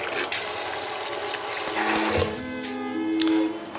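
Cold tap water runs steadily into a pot to cover soaked beans, a close, continuous splashing stream whose pitch rises as the vessel fills, with no talking.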